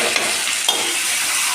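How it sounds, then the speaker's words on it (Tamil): Tomatoes sauté in a pan with a bright, steady sizzle and a couple of short stirring scrapes, close and continuous. "தக்காளி வந்து நல்லா வதங்கலாம்."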